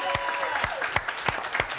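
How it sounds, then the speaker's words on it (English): Loud, dense clapping from a crowd fills the moment, with sharp individual claps standing out in a quick, uneven rhythm. "Ladies and gentlemen, the big raucous round of applause for Mama Poppin!"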